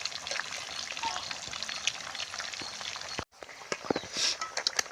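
Fish pieces fry in hot oil for Andhra-style fish pickle, a steady close crackling sizzle with scattered pops, briefly cutting out for a moment before resuming with brighter spattering.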